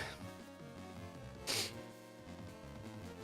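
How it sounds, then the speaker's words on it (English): A single short sneeze bursts out mid-clip over steady background music from a Castlevania game. "just a random sneeze was coming out of nowhere"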